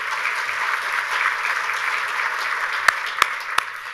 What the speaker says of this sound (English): Give yourselves a round of applause for all you do.